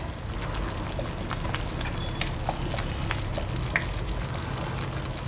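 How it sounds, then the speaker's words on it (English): Mee Rebus gravy stirred in a pot over medium-low heat gives a continuous bubbling, sizzling hiss with small scattered clicks of the utensil, close and even, no one speaking. "We'll stir them on medium to low heat."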